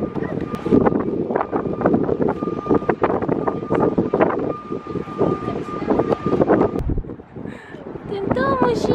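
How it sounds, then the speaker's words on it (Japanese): Strong wind buffets an outdoor microphone with rough, gusting rumbles that rise and fall throughout, while people talk over it nearby. "風が強いね。"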